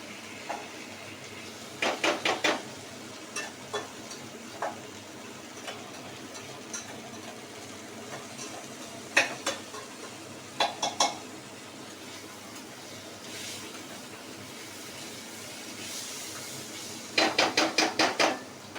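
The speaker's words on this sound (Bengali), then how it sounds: "গ্যাসটা আমি আস্তে করে দিয়েই নাড়ছি, না হলে চলে যাবে, হয়ে যাবে, সব পুরোটা লেগে যাবে" Khichuri being stirred in a pot over a low gas flame, with sparse spoon scrapes and clinks against the pot in short bursts and scattered single taps, fairly close and moderately loud over quiet background.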